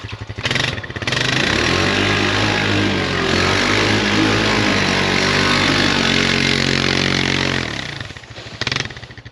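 Honda 420 Rancher ATV engine pulled hard under throttle while hauling logs through snow and trees, a loud, steady, close-up drone that holds for several seconds before easing off.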